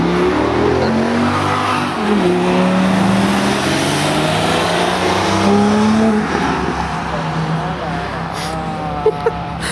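A car accelerates hard on a race circuit, engine pitch climbing through several gear changes, loud and close, with people talking over the engine noise throughout.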